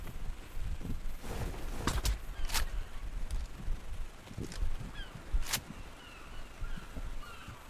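Flock of birds in ARK Survival Evolved honking and calling over steady game ambience, with scattered sharp cries and a few clopping beats, moderately loud and fairly near.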